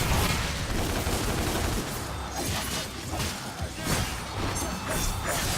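Rapid bursts of gunfire and crashing impacts from the action game Devil May Cry, dense and loud, with rattling volleys that swell and dip throughout.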